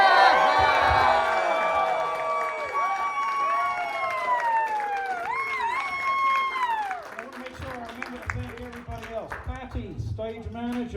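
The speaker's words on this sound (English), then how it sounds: "She needs the biggest cheer of everybody." An audience at a steampunk fashion show at Wild Wild West Con cheers and applauds, the crowd noise loud and continuous behind a voice amplified through speakers, thinning into scattered clapping near the end.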